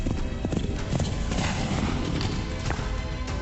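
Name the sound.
horse hooves clip-clopping and whinnying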